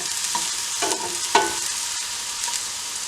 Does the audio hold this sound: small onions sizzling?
yes